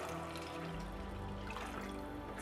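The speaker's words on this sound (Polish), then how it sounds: "czyli dolewam dwie szklanki wody" Two glasses of water pour into a pot holding a glass of rice, a soft steady splashing and trickle heard quietly and close, with no talk.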